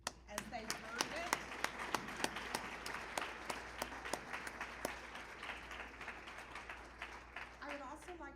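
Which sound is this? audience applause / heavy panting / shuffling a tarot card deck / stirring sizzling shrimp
audience applause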